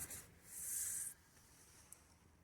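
A hand rubs across a car tyre tread on a Citroen Picasso, one soft, close scraping stroke lasting about half a second, then near silence apart from a faint tick.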